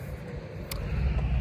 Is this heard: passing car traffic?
yes